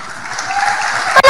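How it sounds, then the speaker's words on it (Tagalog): An audience at a church sermon applauds, a loud, dense clatter of many clapping hands lasting about a second before cutting off abruptly. "talaga, may mga palakpak pa yan."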